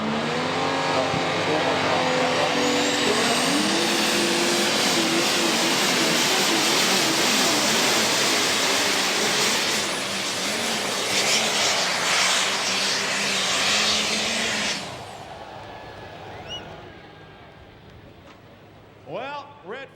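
Diesel super stock tractors roaring at a tractor pull at Bowling Green, Ohio, a loud sustained engine howl with rising pitch for about fifteen seconds, then cutting off to quieter crowd ambience and an announcer's voice.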